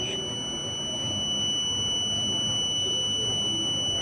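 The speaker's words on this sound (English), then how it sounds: "So the buzzer start now beeping sound." A piezo buzzer on a homemade smart medicine reminder box gives a steady, shrill electronic tone that holds without a break over a faint background hiss.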